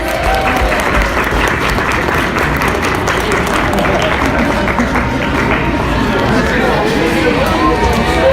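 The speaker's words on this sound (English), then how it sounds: "Let's give him a big round of applause." An audience at a beauty pageant applauds for a boy contestant, sustained dense clapping with crowd murmur and some voices mixed in, steady throughout.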